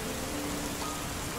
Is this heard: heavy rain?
yes